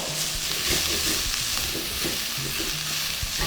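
Spanish thyme being stirred into a Trinidadian egg and potato curry in a pan, a continuous sizzle with soft scraping and tapping from the stirring spoon; no voices are heard.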